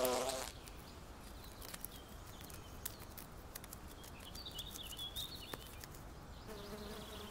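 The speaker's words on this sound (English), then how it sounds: "The same goes for insects," Wasps and hornets buzz around fermenting fruit outdoors in autumn, a faint, steady insect hum with occasional closer passes and small ticks.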